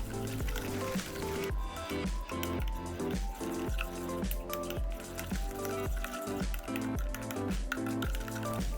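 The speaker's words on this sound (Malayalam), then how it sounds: "ഇനി ഇത് നന്നായിട്ടൊന്ന് മിക്സ് ചെയ്തെടുക്കാം." A paprika spice marinade being stirred in a bowl before the chicken goes in, giving a close, wet, rhythmic squishing and clicking that repeats steadily throughout with no speech.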